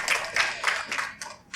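Bursts of audience clapping at a devotional house program, short uneven rounds of hands coming in waves over a quiet room, with no voices over them.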